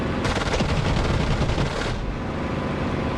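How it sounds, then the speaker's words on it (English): Aircraft cannons firing in the DCS flight simulator game: a loud, dense stream of rapid rounds that keeps up for nearly two seconds, then stops, leaving a steady engine roar. "Those cannons will take out a panzer tank from behind."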